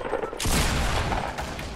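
Shotgun fire in Fortnite Battle Royale, a sudden loud blast after a short lead-in, followed by a dense crackle of gunfire that stays close and heavy.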